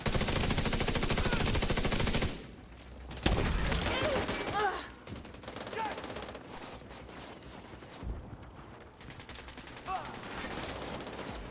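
Heavy mounted gun firing in a shooter video game, loud rapid bursts that start and stop with short pauses, with a player talking over the shooting.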